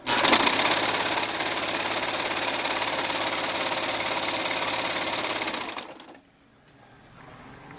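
A sewing machine stitches a strapless twisted dress in one steady, fast, buzzing run of several seconds, close and alone, then it stops abruptly and leaves a soft hum.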